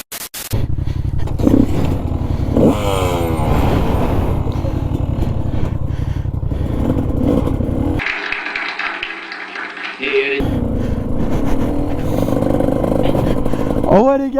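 A supermoto motorcycle engine roars loudly and steadily up close, with a sharp rising rev near the start, a brief dip around the middle, then a strong roar again, while someone talks over it in French.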